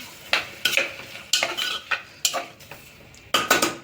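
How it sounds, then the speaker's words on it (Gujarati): A spoon scrapes and clinks around a metal pan as red chilli powder, coriander-cumin powder and turmeric are stirred into a cashew and pea masala curry, in a run of sharp, rhythmic strokes close by with no talk. "બધું મિક્સ કરી દઈશું."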